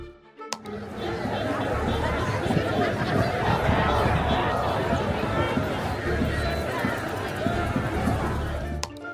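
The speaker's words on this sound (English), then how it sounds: "In Washington, D.C., chants echo through the streets as demonstrators demand accountability" Demonstrators fill a street in Washington, D.C. with a sustained crowd roar of overlapping voices and chanting, steady and dense for the whole stretch, fairly close and loud.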